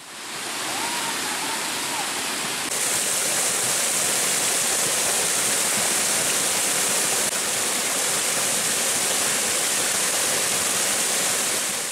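A steady, full-bodied roar of falling water at Tirta Rimba waterfall, Baubau, Buton Island, fills the whole stretch, constant and close, with no other sounds rising above it.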